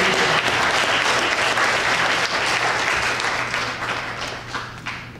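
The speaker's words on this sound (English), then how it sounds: "Let's give our Christian Education Department a round of applause for their wonderful music" A church congregation applauds the Christian Education Department after its music, sustained, loud, full-room clapping that gradually fades toward the end, with no talk over it.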